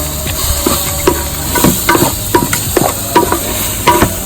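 Biryani masala being stirred in a pot while it sizzles, with repeated scraping strokes of a spoon against the pot in an uneven rhythm over a steady frying hiss, close and fairly loud.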